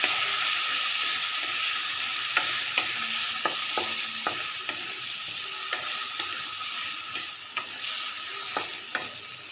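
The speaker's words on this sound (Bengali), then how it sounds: "নুন, হলুদ, এটা খুব ভালো করে আলুগুলোকে ভাজতে হবে" Potatoes seasoned with salt and turmeric fry steadily in a pan, a continuous bright sizzle broken by occasional sharp clicks and scrapes of stirring, close and fairly loud throughout, with no voices.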